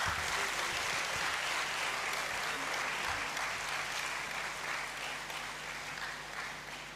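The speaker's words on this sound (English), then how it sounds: "A bigger round of applause" Continuous applause from a large crowd in the Great Hall at a University of Ghana graduation congregation, dense and even, easing slightly toward the end.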